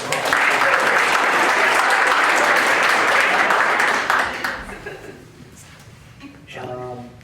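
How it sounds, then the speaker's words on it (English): Audience at a town board meeting applauds for several seconds in a steady, full wash of clapping that fades out, after which a voice speaks. "You can clap for her."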